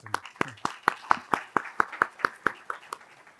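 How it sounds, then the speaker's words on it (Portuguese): Sharp hand claps in a steady rhythm, about fifteen in three seconds, close and moderately loud, with no voices. "Primeiro, uma salva de palmas para o Takata."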